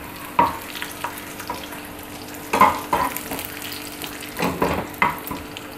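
Hot oil sizzling steadily with bursts of louder crackle and stirring clatter as 20 to 25 round dried red chillies hit the pan, close by, for a chicken haleem tempering.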